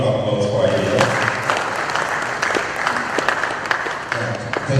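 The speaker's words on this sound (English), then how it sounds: "Round of applause for you." A small group claps in a burst of applause at a KNUST college and industry panel discussion, the scattered claps fading out while a voice speaks over them.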